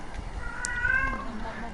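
A cat lets out a drawn, wavering meow nearby indoors, alongside faint background sounds from an Overwatch competitive match.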